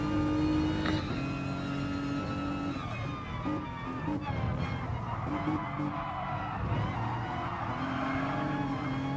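A Renault Clio V6 24v race car laps a track in a racing game, its engine droning steadily with rising and falling revs, gear shifts and faint tyre scrub.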